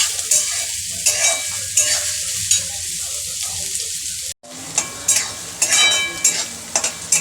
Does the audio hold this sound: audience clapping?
no